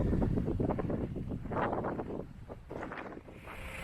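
Strong wind buffets the microphone in heavy, roaring gusts, with rumbling low noise and no talking, on the Canning Stock Route in 4WD country.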